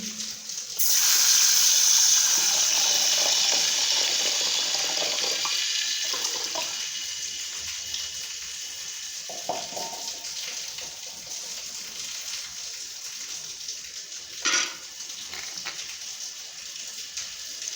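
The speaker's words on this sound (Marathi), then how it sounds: "आता आपण पाणी ओतून घेऊ" Water pours steadily with a broad rushing splash that starts abruptly, stays loud, then eases off, with a brief bump near the end.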